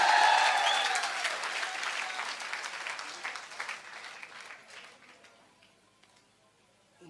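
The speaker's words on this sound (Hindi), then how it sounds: "ताली होनी चाहिए" An audience claps loudly at a motivational talk, the applause bursting in strong and full, then thinning out over several seconds into scattered claps before falling to quiet.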